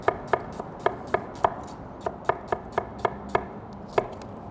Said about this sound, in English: slice up some yellow onions. So we're gonna do that now